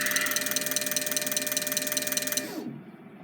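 An ASNU injector test rig runs with a fast, buzzing mechanical chatter and a steady whine while it primes the fuel system, then winds down and stops near the end.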